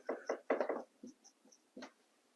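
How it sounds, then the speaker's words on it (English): Knocking on a hard surface, a few separate quick clusters of sharp raps, close and fairly loud, followed by a lone knock after a short pause. "Oh, that's the knocking. I thought somebody was knocking on our door, and it's just me."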